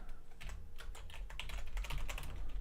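Rapid, steady keystrokes on a computer keyboard, tapping close and clear with no voices, over a low background hum.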